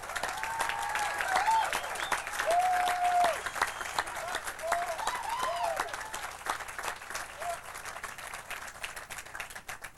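A crowd at a college graduation ceremony applauds loudly and continuously, a dense wash of clapping that slowly thins, with a whistle or cheer rising above it.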